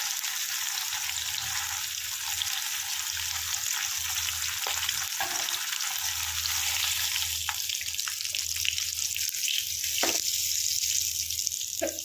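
Spices for a crab curry fry in a pan with a constant bright sizzle, broken now and then by stirring scrapes and clinks, close and loud with no talking.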